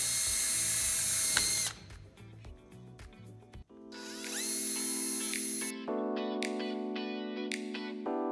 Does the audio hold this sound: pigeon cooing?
no